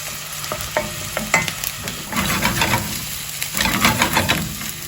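Onions sizzle and crackle in a hot pan, with occasional stirring scrapes and a steady frying hiss, close up.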